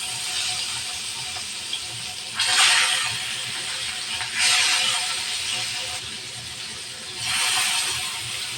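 Rohu fish pieces fry in hot oil, a steady hiss that swells into three loud, bright bursts of sizzling spaced a few seconds apart.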